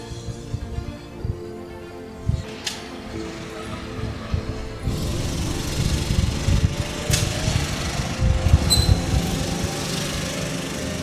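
A small 5-inch FPV racing drone flies around outdoors, its high-pitched motor whine droning continuously, rising and falling in pitch as it maneuvers, loud and close with no talk.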